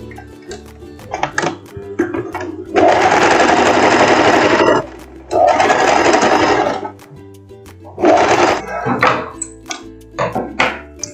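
Sewing machine stitching the shoulder seam of a short lace dress, three sustained bursts of fast motor whirring separated by pauses with small handling knocks and clicks, loud and close.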